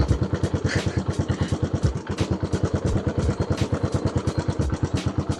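A motorbike engine just started and idling loud and close, with a fast, steady, chugging pulse of firing beats that holds evenly throughout, no talking over it.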